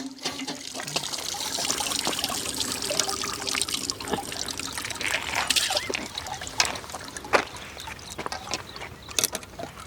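Water pours out in a continuous trickling splash with scattered drips and sloshes, fairly close, over faint background noise.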